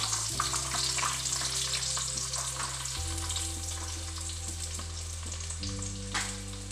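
Chopped onion fries in oil in a pan for a Tulu-style squid sukka, a steady close sizzle and crackle beneath a low droning hum, with no one speaking.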